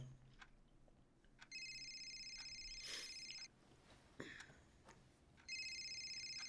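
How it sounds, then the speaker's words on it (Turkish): A telephone rings late at night with electronic ringtone bursts: two long tonal rings separated by a pause, with a third starting at the end, heard close and clear over quiet room noise. "Telefonu çalıyor."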